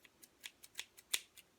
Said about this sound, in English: you're going to grab your pair of scissors and you're going to cut the yarn from the yarn ball